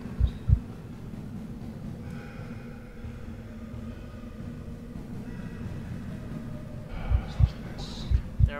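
Low heartbeat thumps from the SCP-087 horror game sound in pairs at the start and again near the end, separated by a droning low hum and faint rumbling ambience.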